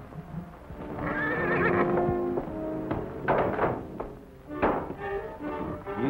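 A pinto stallion neighs loudly and repeatedly in a Western setting, with whinnies rising and falling over several seconds and a few dull hoof thuds between calls.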